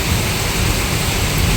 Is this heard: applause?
no